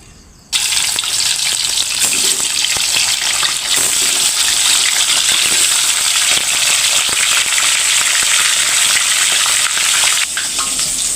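Salted japuh fish dropped into hot oil in a pan: after a brief quiet start, a loud sizzle bursts in and keeps crackling steadily up close, with no voices.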